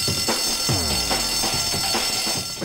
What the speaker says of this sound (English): The fire alarm, guys.